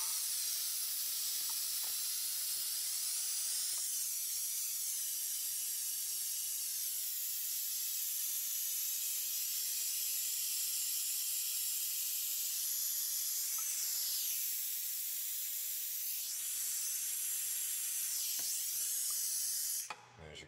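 Air hisses steadily through a 15 mm single-bellow silicone vacuum suction cup while it lifts a small plastic part, a loud continuous rush lasting nearly the whole stretch before cutting off at the end.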